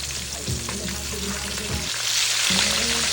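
Chicharong bulaklak, deep-fried pork intestine, crackles and sizzles steadily in hot oil as a new batch goes in, with a low rumbling burner hum underneath and a louder surge of bubbling toward the end; no one speaks.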